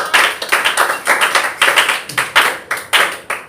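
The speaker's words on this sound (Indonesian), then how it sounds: "kita berikan apresiasi untuk kita semua, tepuk tangan" A classroom group claps together at the close of a lesson, loud and close, with quick uneven hand claps forming a steady rhythmic patter for the whole stretch.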